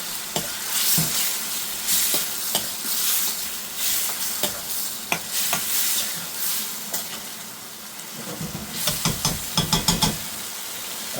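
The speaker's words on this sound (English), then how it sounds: "Give that a good stir again." Dried fenugreek leaves (kasuri methi) stirred into a sizzling balti curry in a pan, a continuous fry hiss punctuated by repeated scraping and clattering stirs, with a burst of quick knocks near the end.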